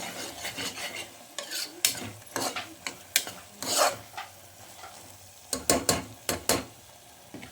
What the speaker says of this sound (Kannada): ಇವಾಗ ಹಾಕಿ ಒಂದು ನಿಮಿಷ ಫ್ರೈ ಮಾಡಬೇಕು